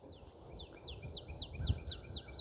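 Small birds, sparrows and tailorbirds, calling among bare trees outdoors, a quick series of evenly spaced high chirps repeating about every quarter second, moderately faint over soft background noise.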